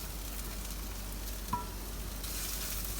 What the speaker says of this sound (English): I'm going to add in all onions, and we're going to lightly brown these